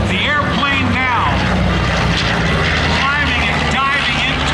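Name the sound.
propeller aircraft passing at airshow, B-25 bomber and Japanese Zero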